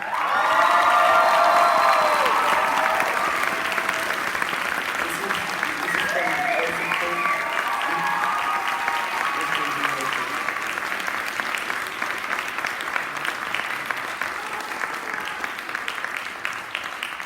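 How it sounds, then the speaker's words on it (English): Crowd at a Year 13 school graduation ceremony applauding and cheering, loud whoops and shouts at first, then settling into steady clapping for over fifteen seconds with voices mixed in. "Can we also have another big round of applause for Mr. Cashin?"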